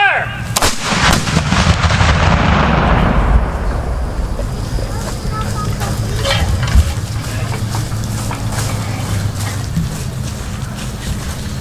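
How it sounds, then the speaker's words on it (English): Civil War reenactment artillery battery fires a salute at the Battle at Narcoosee Mill reenactment: one loud, close cannon blast booms out, then a long rumbling echo and wind noise drift across the field. "Battery fire on me. For First Sergeant Tony Denham. Fire"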